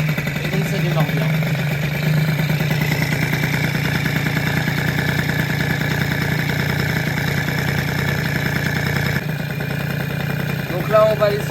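A Peugeot 103 SPX moped fitted with a PHBG 19 BD carburettor starts and settles into a steady, loud two-stroke idle that runs continuously close by, with a brief rev flutter near the end.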